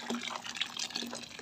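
Hot water pours over dried shiitake mushroom stems in a bowl, a soft continuous splashing trickle, close and fairly quiet, with no voices.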